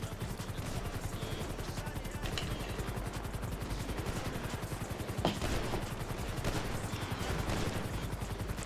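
Rapid gunfire during a GTA roleplay gang fight, a steady fast stream of automatic shots with a few sharper cracks standing out, continuous and fairly loud with no talk.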